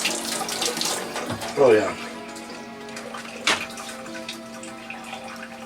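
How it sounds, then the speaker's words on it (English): Hands are washed under a running kitchen tap after handling brisket, with a steady close water stream splashing into the sink, a few clunks, and a brief spoken remark. "Wash hands."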